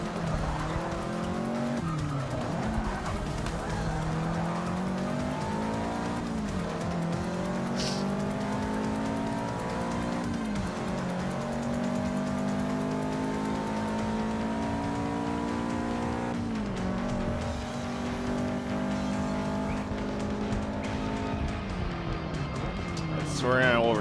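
Race cars in the Forza Motorsport 6 video game, with engines revving up and down through gear changes and tires squealing around corners, loud and continuous, while a person talks over the action throughout.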